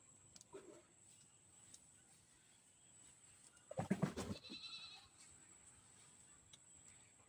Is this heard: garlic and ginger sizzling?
no